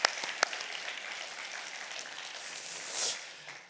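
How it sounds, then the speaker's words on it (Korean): A church congregation applauds during a Sunday worship service, a soft, distant wash of many hands clapping that fades after a few seconds, with a couple of sharper claps at the start. "우리 축하 격려 박수 한번 부탁드립니다."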